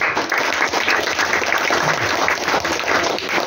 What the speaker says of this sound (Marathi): एकदा सगळ्यांनी शिक्षकांसाठी टाळ्या वाजव